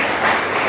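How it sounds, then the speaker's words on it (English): Brief burst of applause from an audience at a school annual prize-giving ceremony, a dense steady wash of many hands clapping at moderate volume. "Let's give them another round of applause as they come."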